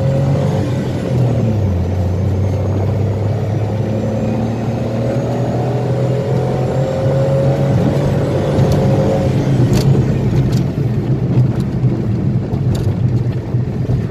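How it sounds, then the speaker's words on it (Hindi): A Maruti WagonR's 1000cc three-cylinder engine drones steadily with a pitch rise early on, loud and close, mixed with some wind rumble and no talking. "तो जैसा कि आपने देखा गाड़ी का साउंड काफ़ी अच्छा है, स्पोर्टी साउंड है काफ़ी ज़्यादा 3 सिलेंडर होने के बावजूद भी"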